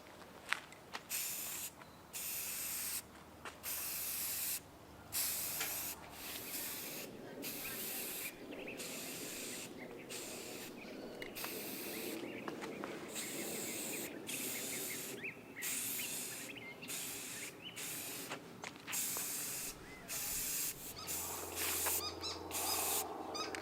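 Primer sprays onto a Piper Archer model airplane in bursts of hissing aerosol, short and long sprays broken by brief pauses, close and steady, with no speech.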